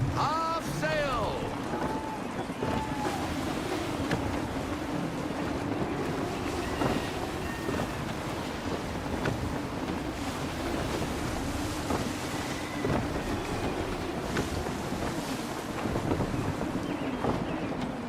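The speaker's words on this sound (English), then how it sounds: "Wind looks to be shifting. Stay alert, Connor. Gusty winds can be difficult to manage." Gusty wind sweeps over open sea around a sailing ship in Assassin's Creed 3, with waves, creaking and rushing air in a constant loud bed, while a voice talks briefly over it near the start.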